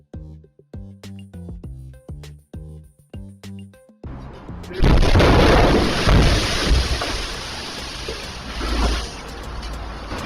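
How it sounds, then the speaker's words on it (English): An overfilled tire being inflated bursts with a sudden loud blast, followed by a long roar of rushing air and noise; a steady pulsing mechanical rhythm runs for a few seconds before the burst. "the tire he was inflating overfilled and exploded"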